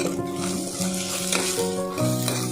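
Green chillies and peanuts fry in a pan with a steady sizzle and stirring, while a faint melodic tone plays underneath.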